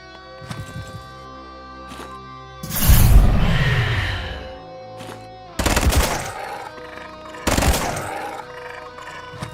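Weapon fire in an action video game: several loud, sharp bursts of gunfire separated by short gaps, with booming low-end impacts and layered game sounds, and no talking.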